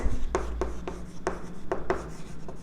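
Pen writing a note on paper: a series of short, crisp scratching strokes at an irregular rhythm, close and fairly quiet, with no talk.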